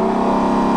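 A loud, steady Lexus LC500 sports car engine roar with a deep sustained tone, close up and unbroken, running at high revs.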